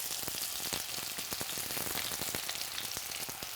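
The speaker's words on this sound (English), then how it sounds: "So my mustard just started spluttering." Mustard seeds splutter and pop in hot oil in a wok, a dense, continuous crackle of sharp sizzling bursts, close and fairly loud, with no voices.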